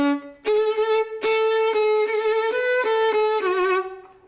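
A bowed violin plays a run of strong, sustained notes with rich harmonics, each note changing smoothly into the next, full and loud with no talking.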